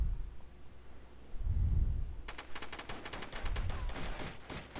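Gunfire from an SV10 pistol in the video game SOCOM 2, a rapid burst of sharp repeated shots following low rumbling thuds, heard alone without talk.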